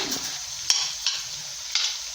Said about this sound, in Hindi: इसमें हम डालेंगे गार्लिक पेस्ट जो हमने पीस के रखा था। इसको हम थोड़ा सा इसके साथ फ्राई करेंगे कुछ सेकंड के लिए।